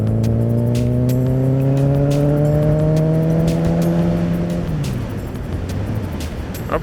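A Honda CB1000R 1000cc motorcycle engine pulls up through the gears, its steady rising drone climbing in pitch before the revs drop off as it settles into sixth gear.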